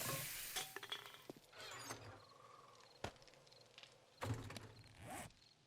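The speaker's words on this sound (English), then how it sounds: "Get that bacon and eggs cooking too." Bacon and eggs frying in the 7 Days to Die video game, a faint, quiet sizzle with scattered clinks and stirring clatter and a few sharp knocks, no voices.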